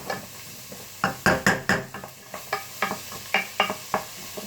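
Onions sizzle in a cooking pot with sausage juices while a utensil stirs and scrapes in a string of sharp, close strokes over a low, steady frying hiss.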